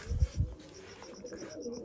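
Pigeons coo at a loft holding more than eighty birds, with two soft low coos near the start followed by quieter ambient sound and faint higher chirps.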